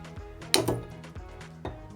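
The top part of a glow stick snaps, used for glow-stick fishing: one sharp, close crack with a brief hard rattle, then a few softer taps.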